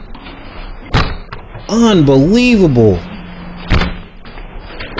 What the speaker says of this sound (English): They're literally trying to break this guy's door down.